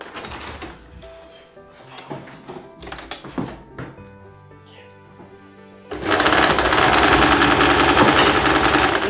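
A sewing machine stitching a blouse sleeve: scattered clicks and light handling at first, then a loud, dense, continuous run of rapid stitching for the last few seconds.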